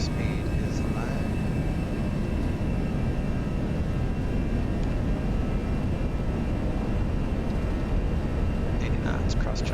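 An Airbus A320 rolls for takeoff in the X-Plane 11 flight simulator, a steady loud engine roar and rumble throughout, with a pilot speaking over it.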